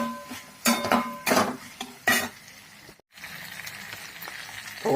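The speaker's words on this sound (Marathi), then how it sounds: "चांगलं परत हलवून घ्यायचं।" Cluster bean (gavar) curry is stirred in a pan, with several loud metallic scrapes and clanks of a spoon against the pan over a faint low sizzle, followed by quieter frying.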